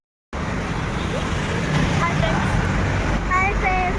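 City road traffic in Visakhapatnam, a steady loud wash of passing cars and motor vehicles with a few horn toots near the end, people talking over it.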